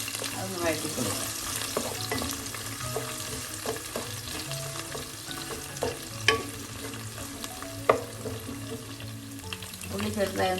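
Sliced small onions sauté in hot coconut oil with fenugreek seeds for a Kerala mackerel chilli curry, a steady close sizzle and crackle with a few sharp spatula stirs and clacks against the pan, no voices.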